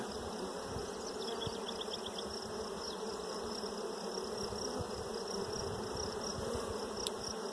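A soft, continuous drone of honey bees buzzing around a hive, many insects humming together at a low, even level with no voices.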